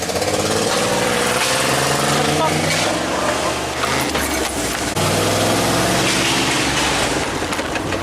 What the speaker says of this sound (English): Rev the piss out of it, you gotta keep it alive.